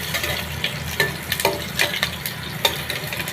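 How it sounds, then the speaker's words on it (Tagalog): Ingredients for squid adobo sauté in a pan, with an even hiss of frying. Irregular bursts of stirring and scraping rise and fall over it, close and fairly loud, and no one speaks. "At syempre haluin po natin ang ating mga sangkap para sa gano'n ay"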